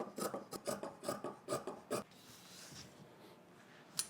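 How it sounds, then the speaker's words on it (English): Scissors trimming a fabric seam allowance on a sewn garment: a run of about nine quick, rhythmic rasping snips close by, then a pause and one final snip. "I'm gonna go ahead and trim the seam down to at least 3/8 of an inch"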